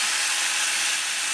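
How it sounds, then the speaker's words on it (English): A small drill bit bores into a wooden wall stud with a steady, close, high-pitched grinding whir throughout. "drill a few small holes"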